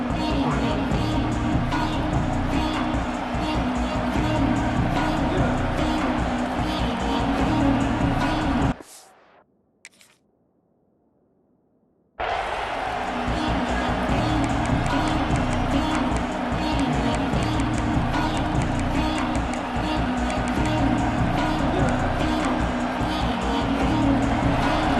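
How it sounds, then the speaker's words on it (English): A packed stadium crowd in EA Sports College Football 26 roars in a loud, steady wash of cheering that cuts out briefly to near silence midway before surging back, with a commentator's voice mixed in. "This crowd trying to show them what it's going to be like all day in this house."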